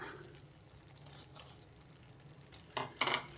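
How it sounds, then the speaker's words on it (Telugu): Ground raw coconut paste is added to a chana dal curry and stirred in, soft wet scraping and bubbling low in the pan, ending with a few louder clatters of the spoon. "ఇప్పుడు మిక్సీ పట్టు పెట్టుకున్నా కదా పచ్చి కొబ్బరి దాన్ని వేసేస్తా"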